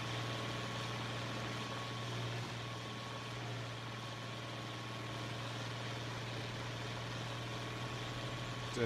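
An International 2+2 tractor engine idles in Farming Simulator 25, a steady low hum that holds faint and unchanging throughout with no talk.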